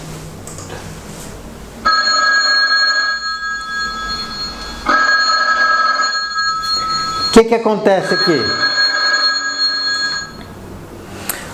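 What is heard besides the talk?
telephone ringing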